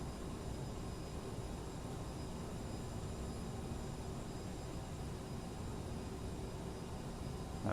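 Cockpit ambience of an Aerosoft CRJ jet on ILS approach in Microsoft Flight Simulator: a quiet, steady broadband engine and airflow hiss with faint tonal whine, unchanging throughout with no voices.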